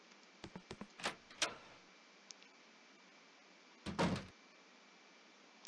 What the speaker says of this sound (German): Wer hat denn geklopft?